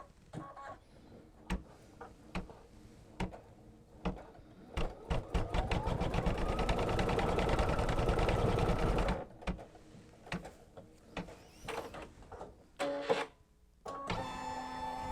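A Babylock embroidery machine stitches a quilt in the hoop, its rapid mechanical whir building to a steady loud run for several seconds, then breaking into short bursts and clicks with pauses between.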